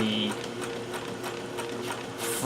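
A sewing machine fitted with a SingerCraft guide stitches over wrapped cording for free-standing fringe, making a quick, even mechanical whir and ticking close by, with a brief higher whine at the end.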